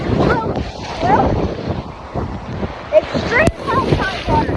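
High-tide waves washing into a beach inlet, with gusty wind buffeting the microphone and excited voices talking and exclaiming over the surf.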